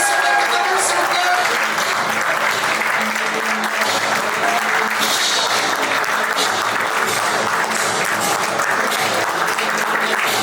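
Wedding guests at a civil marriage ceremony in Libreville applaud as the deputy mayor, Adrien Kemamba, is introduced: dense, steady clapping fills the hall without pause, loud and close for the whole stretch.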